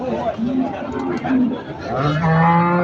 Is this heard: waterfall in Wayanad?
no